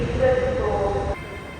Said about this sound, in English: How cool is this train?